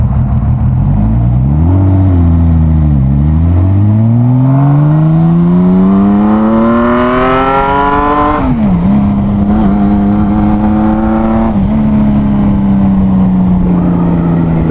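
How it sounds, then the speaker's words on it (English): Kawasaki Z1300 motorcycle engine revving hard, a loud close roar climbing steadily in pitch over several seconds, then dropping and holding at a high steady drone, with no talk. "The sound of this engine is an absolute epic experience"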